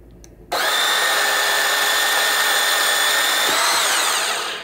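A new Makita 18-volt, 4 Ah cordless handheld bandsaw starts abruptly and runs at steady speed with a bright, whining hum, close and loud, then winds down at the end.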